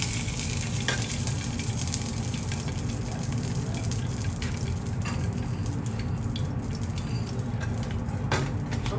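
Garlic ginger paste sizzles in very hot oil, a steady close frying hiss broken by occasional stirring clicks and taps.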